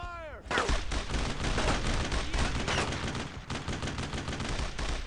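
Sustained heavy gunfire in the World War II video game Brothers In Arms: Road to Hill 30, dense overlapping bursts and machine-gun rattle rolling on loud and close for several seconds.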